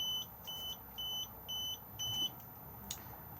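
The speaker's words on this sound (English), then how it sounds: "if I press it, it's going to beep at us because we're currently not connected to a tow vehicle" The 12-volt control panel in an Elddis Xplore 304 caravan beeps in a regular series of five short, evenly spaced electronic tones, clear and close in a quiet interior, followed by a faint click.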